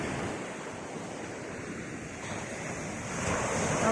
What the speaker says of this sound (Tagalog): Ito yung dagat. Ito yung hinahanap ko.